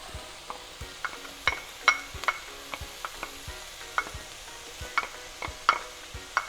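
Onions and garlic sizzling in a pan for slow cooked lamb shanks, a steady frying hiss broken by frequent sharp clicks and scrapes of a utensil stirring against the pan.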